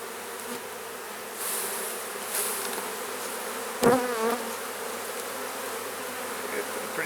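Swarm of honeybees buzzing steadily around a beekeeper during honey extraction, with individual bees whining past close up and a brief thump midway.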